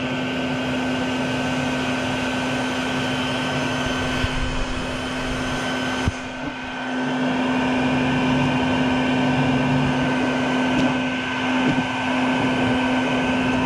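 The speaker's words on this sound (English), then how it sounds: "I can vacuum up as many as I can before a real swarm starts" A vacuum sucking up baldfaced hornets from a nest runs as a steady, loud motor whine and airflow roar with a constant hum, with a brief clunk midway and slight shifts in pitch afterward.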